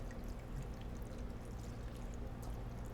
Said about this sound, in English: And I just want to put a little bit more wine in there.